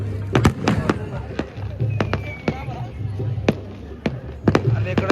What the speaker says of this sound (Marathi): आता बॉम्ब पण फुटतायत.